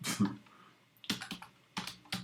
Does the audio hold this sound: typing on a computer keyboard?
yes